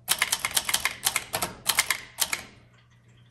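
A 1965 Montgomery Ward Brother Signature 440T vintage typewriter being typed on, sharp close keystrokes in quick bursts with short pauses between, ending with a quiet gap.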